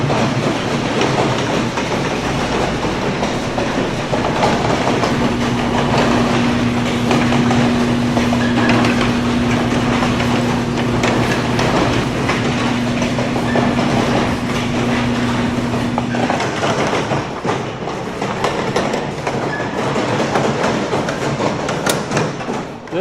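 A C.W. Parker carousel runs with no band organ, giving a loud mechanical rattle and rhythmic clunking from a sticking pin, with a steady whine through the middle before the ride winds down.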